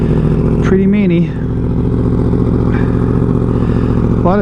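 A 2023 Yamaha R1M fitted with a Yoshimura Alpha exhaust and a flashed, remapped ECU idles loud and close, its engine droning steadily with a brief rev. A voice talks over it.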